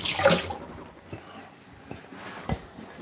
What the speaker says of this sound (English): just give this a bit of rinse.